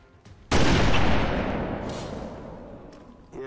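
A single loud gunshot blast from XCOM 2 rings out, its broad boom decaying slowly over a few seconds before a brief scrape or click near the end.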